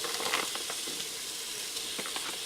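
About a pound of beef browning in hot oil inside a pressure cooker for a Hungarian goulash, giving a steady, bright sizzle and hiss with small pops scattered through it, close by and without talk.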